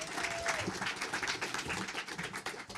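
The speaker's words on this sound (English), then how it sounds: "Can we give Dan a big round of applause?" Audience applause at a live ecommerce industry event, a steady wash of many hands clapping from a crowd, with a few louder claps and faint voices mixed in.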